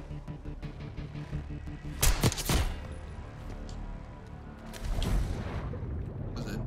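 Sniper rifle gunfire in Call of Duty: Black Ops 6 during a campaign assassination mission, two loud booming shots close together amid constant game background noise, with a second heavy blast a few seconds later.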